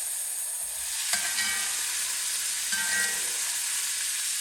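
Black eye peas, collard greens and chopped ham stirred in a pot, a steady soft sizzle with scraping stir strokes near the start and around the middle, close and moderately loud, no voices.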